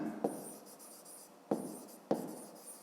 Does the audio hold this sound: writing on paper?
yes